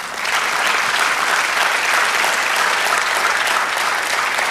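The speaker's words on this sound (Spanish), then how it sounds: "Dale un aplauso al Señor." A church congregation applauds in a sustained, dense wave of clapping that holds steady and loud for several seconds, filling the room without breaks.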